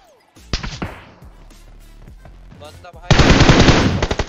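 Automatic gunfire in the mobile shooter BGMI crackles in two bursts, a scattered run of shots early on, then a dense, loud sustained spray near the end.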